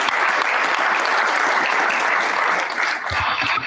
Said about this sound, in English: let's give a round of applause to these people